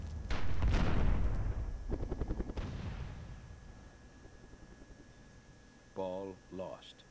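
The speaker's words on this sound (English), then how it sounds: "Something's exploding." Explosions go off in the strategy game Myth II Soulblighter, a heavy booming blast followed by a rattling burst of smaller detonations that fade, then brief game voices or cries near the end.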